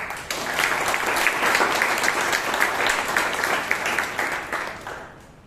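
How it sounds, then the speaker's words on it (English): A room full of people at a Toastmasters meeting in Bangalore claps steadily for several seconds, a dense burst of applause that fades out at the end. "give an applause"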